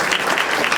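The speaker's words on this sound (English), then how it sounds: "Round of applause." An audience at a talk on AI and sign language breaks into applause, a brief burst of dense clapping, loud and close.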